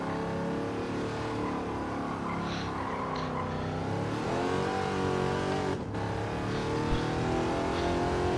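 Race car engine revving in Gran Turismo 7, a steady loud mechanical drone with rising and falling pitch as the car accelerates hard, brief dips where it shifts gears.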